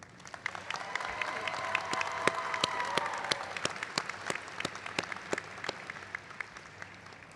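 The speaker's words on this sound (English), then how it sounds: "Let's give a round of applause for Tao." Scattered applause from a modest commencement crowd swells then thins to sparse, individual claps, with a faint cheer or murmur early on.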